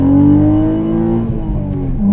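A VW Corrado VR6 pulls away hard in first gear with two people aboard, its engine note close and loud from inside the car and the pitch climbing steadily as it revs up through the gear.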